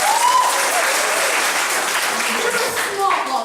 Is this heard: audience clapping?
yes